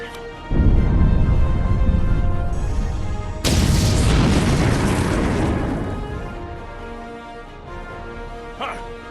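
Deep, booming explosion in the Star Trek Online space game, with a heavy rumble that starts abruptly, then a second louder blast midway that roars and slowly fades over several seconds.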